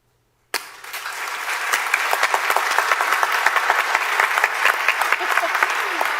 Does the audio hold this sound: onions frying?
no